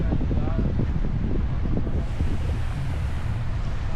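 Steady wind roars across the microphone with crashing surf at Siboney Beach in Santiago de Cuba, a loud, continuous wash of breaking waves filling the whole stretch.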